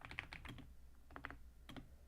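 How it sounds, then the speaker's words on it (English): Keys clack on a computer keyboard in short irregular bursts of typing, quiet and close, with brief pauses between clusters of keystrokes. "I still can't type well without looking at the keyboard"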